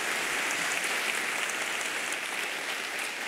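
A large church audience applauds at a televised Brazilian faith service, a dense, even wash of clapping that holds steady and fairly distant across the whole stretch without a break.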